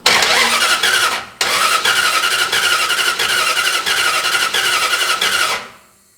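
Car engine with a faulty camshaft lifter from cheap white-box parts, chugging loudly up close with a rough, uneven running beat, cutting out briefly then running on again before shutting off.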